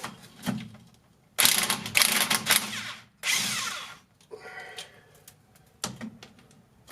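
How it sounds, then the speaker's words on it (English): A 1/2-inch impact wrench with an impact socket works on a pickup truck differential, firing several loud, close bursts of rapid hammering with short pauses between them. "I have to go to 1/2-inch impact for this job."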